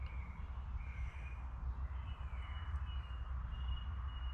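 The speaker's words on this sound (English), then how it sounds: "There's a song thrush singing over there" A distant song thrush sings faint, repeated whistled phrases at a camp at dusk, set against a steady low outdoor rumble.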